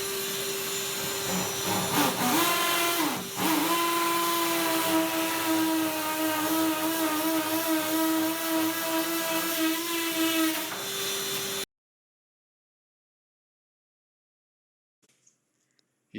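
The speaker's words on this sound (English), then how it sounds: "He will drill in 3 holes there" A power drill whines steadily at close range for about eleven seconds, drilling holes in a tiled shower wall, its pitch dipping briefly under load, then cuts off into near silence.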